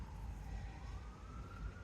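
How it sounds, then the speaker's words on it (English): A siren wails in the distance outdoors, its tone slowly rising and falling. It sounds faint and low over rumbling city background noise. "We've got the sirens going off in the background."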